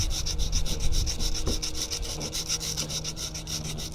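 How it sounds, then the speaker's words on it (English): Sandpaper rubs steadily over a surface being prepared for a Gluetread stair tread installation, a continuous rhythmic scraping of quick back-and-forth strokes, close and fairly loud with no talking. "Like that, and just keep sanding until"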